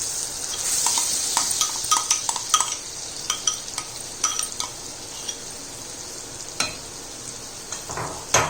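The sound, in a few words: dal frying and being stirred in a pan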